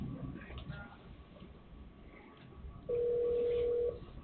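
A speakerphone in a commission meeting room gives a single steady ring tone for about a second after low, muffled room noise.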